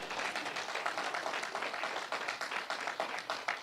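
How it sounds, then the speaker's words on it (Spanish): A church congregation at a Spanish-language service in Utah claps together in a fairly quiet, rhythmic burst, the steady pulse of hands continuing evenly for a few seconds with no voices on top. "Dale un aplauso al Señor"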